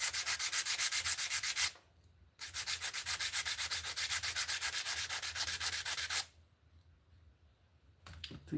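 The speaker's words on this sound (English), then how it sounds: "I think I'm gonna just keep sanding this down till it's" Sandpaper is rubbed by hand in fast, steady back-and-forth strokes, close and loud, in two long bursts separated by short pauses, with a brief restart at the end.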